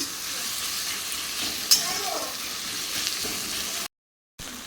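Sliced onions and tomatoes frying in a pan, a continuous bright sizzle with a brief sharp clink partway through, ending in a short dropout of silence.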